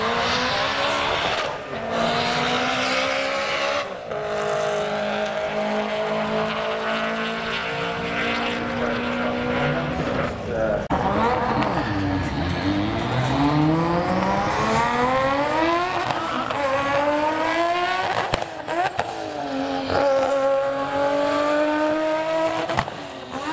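Race cars at a drag strip event, including a Supra-powered MX-5 among the entrants, roar past with rising and falling engine pitch sweeps, loud and continuous, with brief bursts of revving and a possible tire squeal, no talking.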